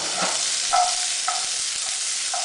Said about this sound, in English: I'm gonna add our little carrots and let them get to cooking